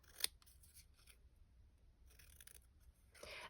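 Scissors snip through a paper postage stamp for a handmade envelope: one sharp, close cut near the start, then lighter, intermittent snipping and rustling of paper in a quiet room.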